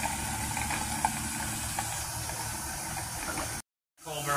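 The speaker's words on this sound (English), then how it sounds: "Coal burning steam locomotive" A steady, loud hiss of steam from a coal-burning steam locomotive fills the scene with a rumbling low background, then cuts off abruptly before resuming.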